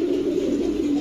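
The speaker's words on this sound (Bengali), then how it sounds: "এটি খুলনার কবুতর।" A Khulna teddy pigeon coos close by, one low, steady, throaty hum that fills the moment on its own.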